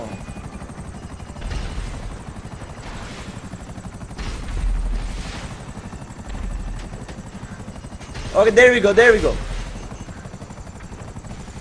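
A helicopter in GTA 5 Online flies close with a steady rotor drone throughout, swelling louder at moments, with brief bursts of gunfire near the end while someone talks over it.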